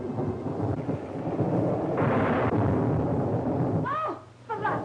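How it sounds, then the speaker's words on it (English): Thunder rolls through a stormy night as a loud, sustained rumble that swells and holds for several seconds before fading, followed by brief tonal sounds near the end. "It's a storm."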